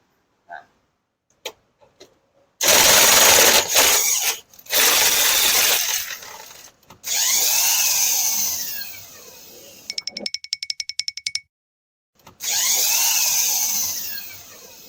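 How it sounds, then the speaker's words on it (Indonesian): Impact wrench loosening a 14 mm bolt during power steering repair on a Daihatsu Charade, firing in several loud sustained bursts separated by short pauses and clicks, close to the microphone, with no talking. "untuk buka baut 14 nya kebenaran saya ada impact"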